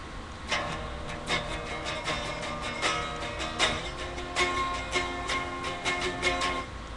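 An acoustic guitar part in which the chord shape slides along the neck and is strummed repeatedly, a steady rhythm of bright strums and ringing notes, close and moderate in level, with no talking.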